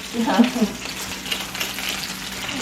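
Fennel pieces browning in a pan over high heat, a close, steady sizzle and crackle of frying that runs throughout, with a brief bit of movement in the pan near the start.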